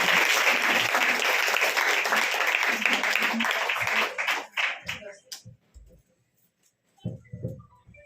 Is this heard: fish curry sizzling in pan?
no